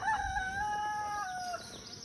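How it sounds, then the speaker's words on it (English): A rooster crows once in a long drawn-out call, moderately distant, over quiet outdoor background noise near beehives. "That's my rooster."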